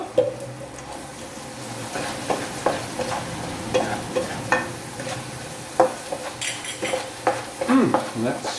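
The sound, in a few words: stir-frying chicken with cashew nuts and sesame oil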